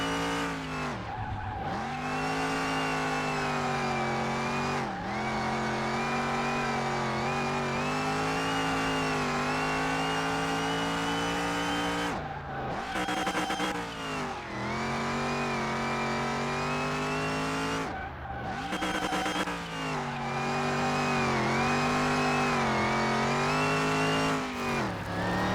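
A 1965 Chevy Impala engine growls steadily and loud while driving, rising and falling through revs with brief dips in between, and no talk over it.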